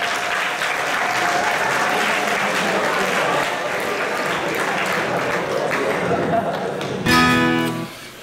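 A school audience claps at a Christmas show at a Czech secondary school. The applause is steady and fairly close for about seven seconds before a voice cuts in over the fading clapping.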